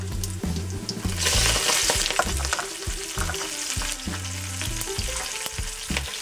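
Cumin seeds, mustard seeds, whole red chillies and curry leaves sizzling and crackling in hot oil with stirring, a steady close fry with small pops throughout.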